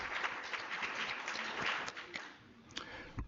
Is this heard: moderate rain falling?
no